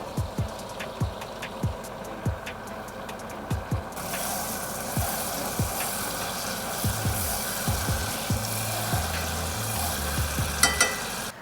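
Butter melting in a pan for a gingery miso sauce: a steady, close frying sizzle that swells after a few seconds, with light ticking utensil clicks early on and no talking.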